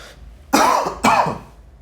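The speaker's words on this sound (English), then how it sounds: "trademark cough at this point." Two forceful coughs, close and loud, about half a second apart, with a short throat-clearing quality and quiet room tone before and after.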